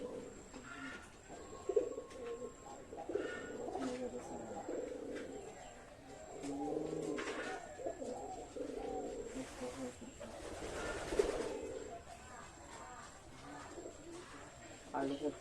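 Two pigeons coo softly in repeated low, throaty phrases nearby, with voices talking intermittently over them.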